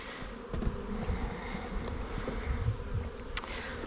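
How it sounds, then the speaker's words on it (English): Honeybees buzz steadily around an open nucleus hive outdoors, a dense close swarm drone holding at constant loudness throughout with no voices. "It's full of bees."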